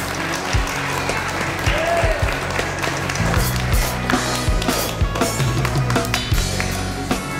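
A live audience at a concert at Tichauer Art Gallery applauds steadily, a dense patter of clapping with occasional louder claps and thumps, with voices mixed in.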